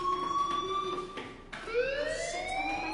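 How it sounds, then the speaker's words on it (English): A fire alarm sounds in a PS4 video game, a shrill electronic tone that sweeps upward twice with a break between, steady and fairly faint with no talk over it. "Hey, do you hear that fire alarm?"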